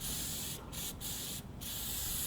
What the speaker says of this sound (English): You shake it up good. You spray it to the end,